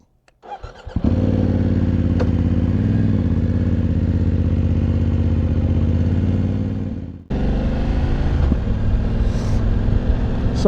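A BMW F900GS motorcycle starts up and rides off-road, a loud, close, steady engine drone after an initial clatter, briefly cutting out then resuming with a rougher rising note.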